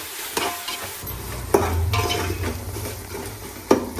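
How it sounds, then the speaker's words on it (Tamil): Onion with ginger-garlic paste sautéing for a chicken dum biryani gives a crackling sizzle, with a spoon stirring and scraping against the pot and a couple of sharp metallic knocks. "வெங்காயம் நல்லா வதங்கின பிறகு இஞ்சி போட்டு பேஸ்ட் போட்டு நல்லா வதக்கணும்."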